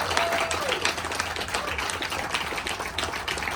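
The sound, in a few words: round of applause for TriMet employees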